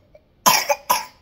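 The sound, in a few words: person coughing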